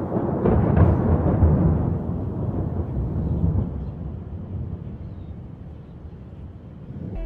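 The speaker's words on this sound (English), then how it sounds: "thunder," A deep rolling rumble of thunder swells early and slowly fades away over several seconds, with no voices.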